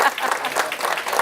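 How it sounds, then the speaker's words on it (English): Audience applause after a speaking engagement, a brief, steady patter of clapping from a modest crowd heard at moderate distance. "You can clap."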